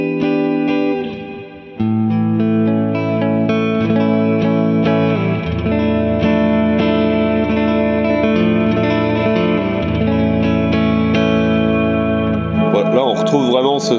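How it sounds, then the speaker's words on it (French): A guitar runs through a stereo reverb pedal on a wet preset. Sustained, ringing notes wash into long shimmering tails, with a brief dip before the chords swell back and a modulated, smeared decay at the end. "sans surprise, elle fait très bien la reverb"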